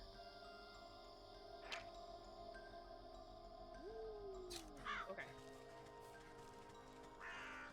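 Crows caw in a dark forest level of the video game Wytchwood, a few short calls standing out over steady ambient game music and effects, with a brief spoken word from a player.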